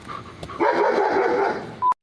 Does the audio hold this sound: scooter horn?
no